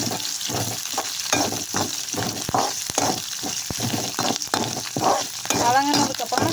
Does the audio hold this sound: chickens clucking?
no